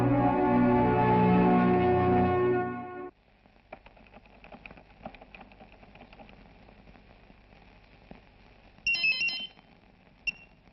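A phone's ringtone plays a loud, melodic ring for about three seconds and then stops. A quiet room follows with small scattered clicks, and a short electronic beep sounds near the end.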